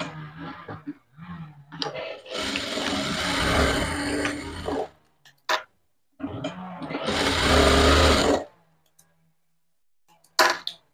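A sewing machine stitches a dart on a blouse in two steady runs of a few seconds each, close and loud, separated by pauses with handling clicks.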